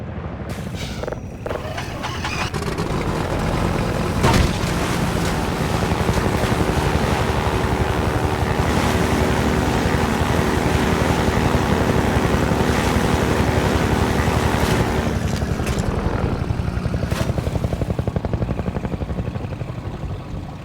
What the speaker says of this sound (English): If you try to chase this helicopter, you will be in for a surprise.